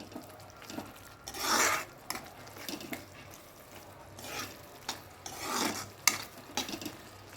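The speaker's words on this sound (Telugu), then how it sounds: "ఇంకా ఇలా మొత్తం బాగా కలిసేంత వరకు ఆ పౌడర్ కలుపుకోవాలి." Masala powder is stirred into an aloo tomato curry in a pan, giving soft scraping and rubbing strokes in several short bursts over a low, quiet background.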